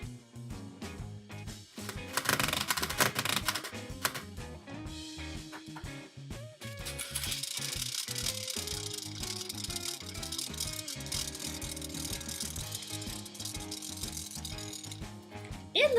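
Close, dry plastic ratcheting comes from a Hot Wheels Speed Winders Torque Twister toy as its rubber-band crank is wound, in bursts of rapid clicks followed by a longer steady ratchet, with no talking.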